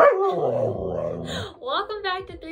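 A dog gives a few short barks and yips alongside a person talking during an unboxing of a horse-riding helmet, the dog's sounds close and brief, mixed in with the speech.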